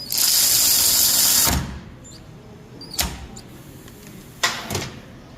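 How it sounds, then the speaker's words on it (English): An Alloyman 16.8V cordless ratchet tightening a fastener gives a loud, steady mechanical whir for about a second and a half, then stops. A few short clicks and knocks follow nearby. "Let's try to torque that again for a second time and see if there's a difference in torque from the first time."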